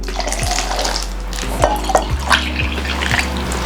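Four cans of chickpeas and water pour into a mixing bowl for hummus, giving a steady close wash of splashing with light knocks and clinks against the bowl, and no voices.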